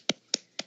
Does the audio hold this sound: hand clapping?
yes